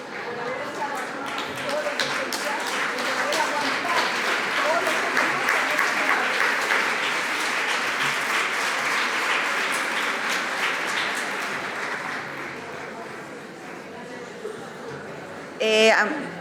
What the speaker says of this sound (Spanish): Ahora mi aplauso para todos.